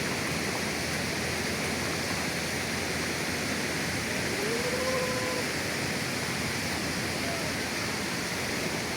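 Swift river water rushes at Sindang Panjang in Tanjung Sakti, Pagar Alam, South Sumatra, a steady, dense roar that fills the whole stretch without pause, with a faint brief voice partway through.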